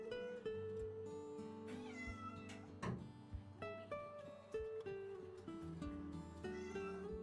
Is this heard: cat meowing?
yes